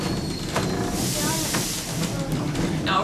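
The historic 1880 train rolls through the Black Hills of South Dakota with a steady rumble and hiss of steam, close and continuous, while a voice talks over it.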